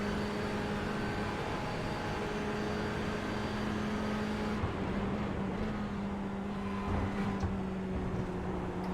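A race car engine holds a steady drone at Daytona, carried on through a hot lap at a constant level with faint shifts in pitch and no talk over it.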